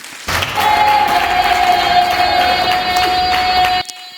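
Crowd of educators at a pedagogical guide launch in the DRC applauding and cheering for themselves, a loud sustained burst of clapping and shouts that starts abruptly and cuts off near the end.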